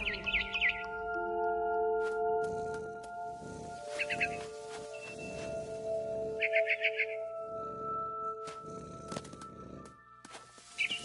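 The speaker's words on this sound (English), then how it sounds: "Then I heard chirping outside my window. It was a barn swallow going back to her nest." A barn swallow chirps in short bright trills outside a window in the video game What Remains of Edith Finch, repeated bursts over a tonal musical drone.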